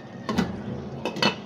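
Metal lid set onto a cooking pot of hilsa pulao, two quick pairs of close clinks and clatters, clear against a quiet kitchen background.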